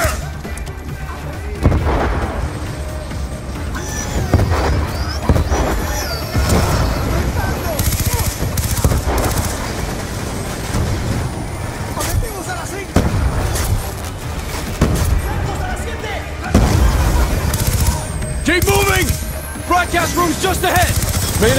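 Bursts of automatic suppressive gunfire and explosions in the Call of Duty: Black Ops II video game, loud and continuous with sharp cracks and booms, mixed under shouted combat voices.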